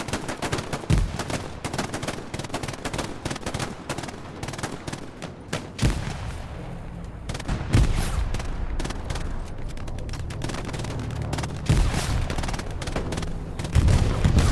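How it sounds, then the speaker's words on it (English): A bombing run in a military video game, with heavy booming explosions and scattered gunfire rolling on repeatedly at close to middling range over a steady, dense rumble. "Oh, here comes a bombing run."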